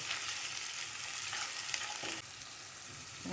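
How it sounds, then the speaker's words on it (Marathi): Chili powder, turmeric and garam masala sauté in hot oil in a pan for a papaya curry. A steady close sizzle and crackle runs throughout, with faint stirring. "आता हे सर्व मसाले छान परतून घेऊया"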